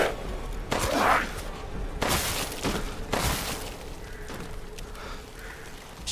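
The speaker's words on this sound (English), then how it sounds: "She's shooting." A run of loud, close gunshots from a video game played on a chill Saturday stream, several sharp blasts a second or so apart with crackling tails, and no voices over them.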